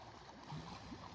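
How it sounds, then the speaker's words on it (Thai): Water flows strongly beside a wide lake in Norway, a faint, steady rushing wash heard briefly with no one speaking. "น้ำไหลแรงมาก"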